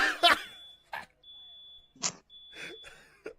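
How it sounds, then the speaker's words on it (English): Fire alarm going off as a thin, steady high-pitched electronic tone that starts and stops in long stretches, fairly quiet under a person's talking. "Okay, the fire alarm goes off and my coding goes up."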